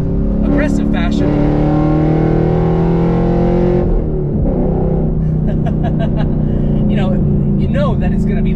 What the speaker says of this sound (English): you know it's gonna make that ridiculously bombastic exhaust note